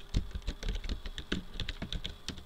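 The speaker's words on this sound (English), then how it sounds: "Sorry if my key typing is loud, my microphone's right next to the keyboard." Computer keyboard typing very close to the microphone: a rapid, uneven patter of sharp key clicks, loud and near, with no talk.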